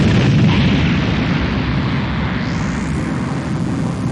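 Loud, sustained explosion rumble inside a building rigged with bombs in an animated series, a dense low roar filling the whole span with no speech over it.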